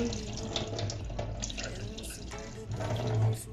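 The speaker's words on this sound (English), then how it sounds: "just to remove the juice, the sour juice. Okay, drain it again." Water from soaked dried mutete roselle leaves drains away in a steady, close splashing pour like a running tap into a sink, with a louder gush near the end and no one speaking.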